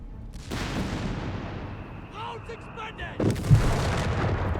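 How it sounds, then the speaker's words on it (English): Leichtes Infanteriegeschütz artillery fire in Company of Heroes 3 comes as two heavy booming bursts, one early and one near the end, each with a rumbling tail over constant battlefield din. "More artillery fire off here from the Leichters Infantry Geschütz"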